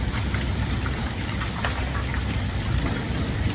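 Steady, dense patter of hail striking surfaces nearby at a bunker construction site, a continuous hissing clatter with no talking.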